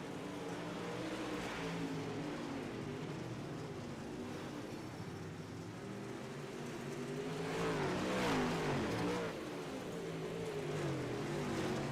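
Several UMP modified race cars lap a dirt oval in an iRacing heat race, their engines a continuous droning roar with rising revs and a louder swell near the end, heard steadily without commentary.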